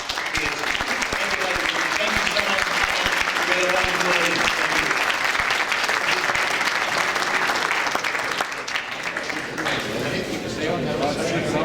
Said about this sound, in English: ask your applause and thanks for each one of our panellists